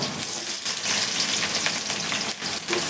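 Chopped onions and curry leaves hit hot oil and fry with a loud, continuous hiss and crackle that stays dense from start to finish, close up and with no voices.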